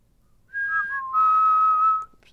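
Someone whistles two clear notes, a short higher tone then a longer lower one, close and distinct against a quiet background with no talking.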